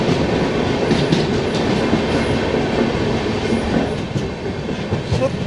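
The Kanchankanya Express rumbles through a dark railway tunnel. A loud, continuous roar of wheels and carriages fills every moment, with faint clickety-clack beats and thin metallic squeals riding on top, and no one speaking.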